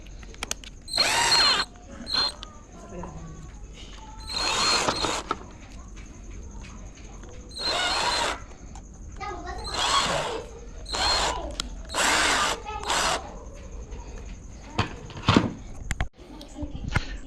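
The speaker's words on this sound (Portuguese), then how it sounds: "eu vou furar aí na posição para colocar o arrebite" A power drill bores holes for a rivet through a plastic strip and a PET bottle for a homemade drain unclogger. Several short, loud whirring bursts are separated by quiet pauses.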